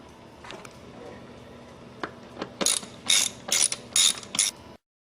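Ratchet clicking in short bursts while rocker cover bolts are retightened on a VTEC Honda Accord engine, several close, crisp ratcheting strokes after a quieter start.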